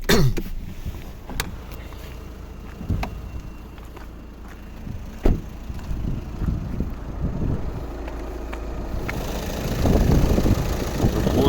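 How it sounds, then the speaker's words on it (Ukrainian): A 2014 VW Passat Alltrack B7 2.0 TDI diesel engine idles with a low, steady rumble, interrupted by a few sharp clicks and thumps, and wind buffets the microphone near the end. "Нам потрібно почути, як працює двигун."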